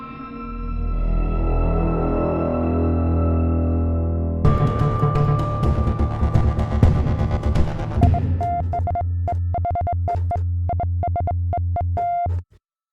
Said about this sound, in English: I'm going to try putting this pipe through a guitar amp.